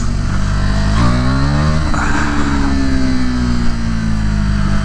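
A KTM motorcycle revs hard while being ridden through Milwaukee, its loud close engine note rising in pitch, dipping briefly and then climbing again in a sustained roar with wind noise over it.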